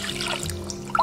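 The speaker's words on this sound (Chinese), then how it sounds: "然后加入清水，把鱼肉淘洗一遍。" Fish fillet is rinsed by hand in clean water, producing a short, close trickle and swish of water that ends in a small splash.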